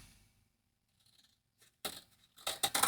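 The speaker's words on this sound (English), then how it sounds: "So let's cut this out." Scissors cut out a paper pocket tag in a craft session, a few close crisp snips after a quiet pause, with the blades' rasping strokes coming in quick succession near the end.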